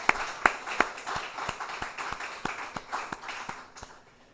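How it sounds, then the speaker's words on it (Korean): A church congregation at a Wednesday worship service claps warmly in celebration, a steady patter of many hands at moderate distance that thins and fades out toward the end. "우리 따뜻한 박수로 축하를 드리도록 하겠습니다."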